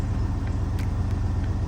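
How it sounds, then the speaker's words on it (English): A pickup truck engine idles steadily after a battery swap, a loud, even low rumble close by with a few faint clicks on top. "So I got the truck running."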